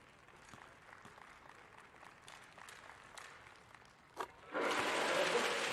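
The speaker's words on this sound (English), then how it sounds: "And that's why he's getting a thunderous applause." A professional basketball arena crowd during a B.League game between the Toyama Grouses and Ryukyu Golden Kings murmurs quietly, then a sharp thud, then a sudden thunderous roar of applause and cheering swells loud and sustained.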